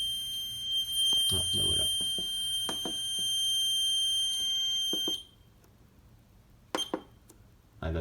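A Chubb ACTIVA 128 addressable fire panel sounds a steady electronic alarm tone for about five seconds, then cuts off. A few short beeps follow, and a person speaks briefly in French.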